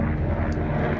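Aircraft flying by overhead outdoors on a windy day, a steady, fairly loud low rumble that holds evenly through the short moment without any voices.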